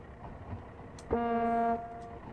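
A train horn in Train Simulator 2022, on the Fylde Coast route with a track tamper, gives one short, clear steady toot of under a second over a low engine rumble.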